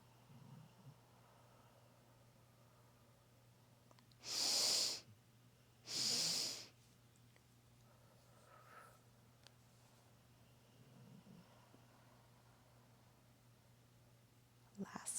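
Two long, loud, close breaths, an inhale and an exhale, are drawn deeply during a morning yoga flow, with quiet room tone between them and a faint voice afterward.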